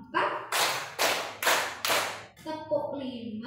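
Group hand claps counted out in a training session, five loud, evenly spaced crowd claps in a steady rhythm, followed by a brief voice at the end.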